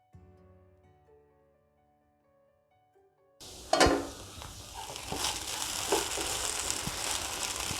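Okra, chopped small, hits a hot pan for an egg thoran and sizzles loudly after a quiet stretch, settling into a steady, dense frying hiss with occasional stirring scrapes.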